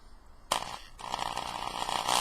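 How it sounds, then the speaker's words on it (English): An electric drill bores holes through a plastic cover for the wiring of a homemade Toyota tachometer adapter, whirring in after a brief knock and grinding steadily and close. "I'm just drilling the holes to the bottom so that the wires will come out the bottom"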